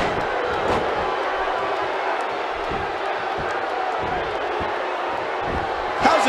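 Capacity crowd roaring at a video game wrestling show after a punishing side slam, a steady dense wall of cheering and shouting that swells near the end, with announcer commentary over it.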